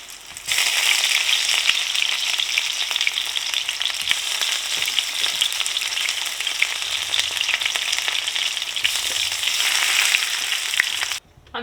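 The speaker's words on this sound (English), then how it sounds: "I am going to double fry each of these just to make sure we get an ultra crispy pickle fritter." Pickle fritters in batter frying in hot oil, a loud, continuous close crackling sizzle lasting several seconds and cutting off abruptly at the end.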